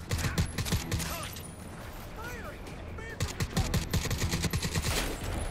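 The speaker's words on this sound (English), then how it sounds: "I shot him in his ass." Rapid bursts of automatic gunfire in Crysis 3, loud and close, in clusters at the start and end with a quieter gap between, while a voice talks over it.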